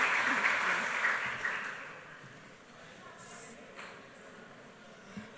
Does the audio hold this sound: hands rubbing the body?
no